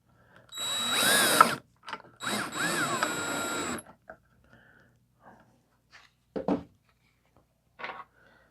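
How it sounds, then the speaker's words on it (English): A power drill whirs in two short bursts, its pitch rising and falling as it drives small screws into wood, followed by scattered quiet clicks and handling noises. "A big old drill, put in little tiny screws."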